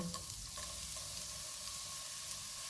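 Chopped garlic and carrots frying in oil on a low to medium flame, a steady close hiss and sizzle with a few faint stirring clinks.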